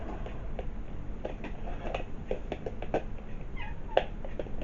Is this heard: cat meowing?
yes